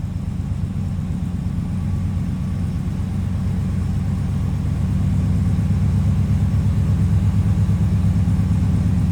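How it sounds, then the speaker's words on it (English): A 1954 Ford F-100 pickup's Y-block V8 engine idles with a low, even, throaty rumble, close and steady throughout, no voices. "That Y block fired up. Sounds good too."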